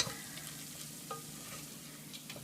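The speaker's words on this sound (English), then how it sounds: "you want to stir your flour and let it cook" A flour roux stirred as it cooks in a pot for spicy corn chowder, giving a soft, steady low sizzle with faint scraping strokes, close and fairly quiet, with no talking.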